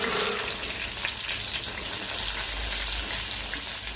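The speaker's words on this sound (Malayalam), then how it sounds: "അതിനുശേഷം കടുക് ഇട്ട് പൊട്ടിക്കുക. എന്നിട്ട് വെളുത്തുള്ളി, കരിവേപ്പിൻ്റെ ഇല ഇട്ട് നന്നായിട്ട് ഇളക്കുക." Mustard seeds, garlic and curry leaves sizzle and crackle in hot coconut oil, a steady, dense hiss close up with no talking.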